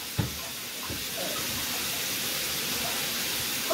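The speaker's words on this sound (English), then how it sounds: "So I'm going to wash my hand twice." Running tap water pours in a steady, even hiss as a person washes their hands with a fresh tattoo, with a couple of faint splashes near the start and no talking.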